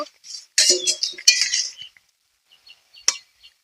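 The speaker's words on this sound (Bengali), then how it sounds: "ঢাকাটা খুলে দেখবো" A metal lid comes off a pot of sour amrul greens cooking with curry leaves: a cluster of bright, close clinks and clatters, then a single sharp tap a moment later, with no talking.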